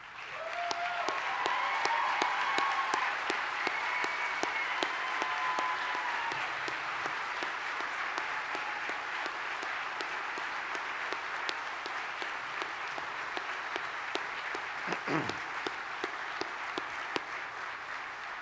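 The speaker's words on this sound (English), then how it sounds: "please stand so that we may applaud your service." Long, sustained applause from a banquet audience honoring military veterans at an awards ceremony, a dense, even wash of clapping lasting nearly twenty seconds with a faint voice briefly heard partway through.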